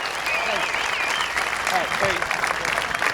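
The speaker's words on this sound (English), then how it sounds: "I want to hear this crowd get a little noisy and say thanks again, race fans." Race fans in the grandstand at Midvale Speedway applaud and cheer steadily after a driver is introduced, a dense continuous wash of clapping with scattered whistles and shouts throughout.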